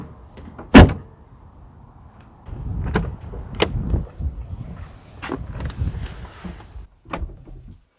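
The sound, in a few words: closing the hood of a Mercedes GLS 400d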